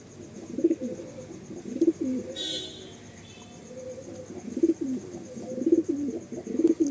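Male pigeons give repeated low, throaty coos in a rhythmic series of soft rolling calls. They sound close but moderately quiet, with brief faint noises between them.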